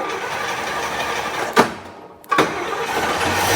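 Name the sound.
International Scout engine starting with new carburetor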